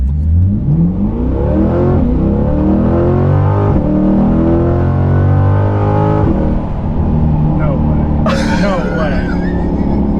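Modified full bolt-on Chevrolet C8 Corvette accelerating hard, the engine note climbing through repeated gear pulls with loud, close, rising roars and brief shift breaks, with a voice reacting near the end.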